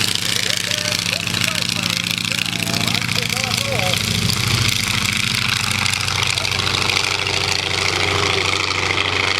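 A droning rotary engine of a triplane flying past at an air show at Rhinebeck, New York, runs steadily and loud, with a voice talking over it partway through.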